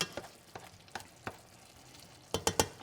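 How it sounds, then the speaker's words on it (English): Food frying in a pan on a stovetop while it is stirred, with a faint background sizzle broken by a few sharp scraping or tapping hits spaced out, then a quick cluster of three near the end. "Stovetop's back on, and we're gonna let this just cook off now."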